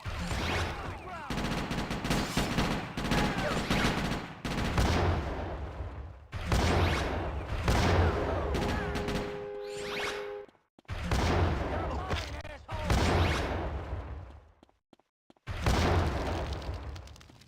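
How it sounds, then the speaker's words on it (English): Rocket launcher shots and explosions from GTA: Chinatown Wars, with loud, repeated bursts of booming blasts and crackling fire in clustered waves separated by brief near-silent gaps. "Ooh, another rocket launcher one."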